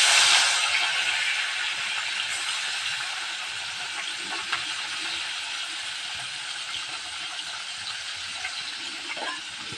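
Amudi fish frying in hot oil make a strong, continuous sizzling hiss that starts loudest and settles into a steady, even crackle with occasional faint clicks.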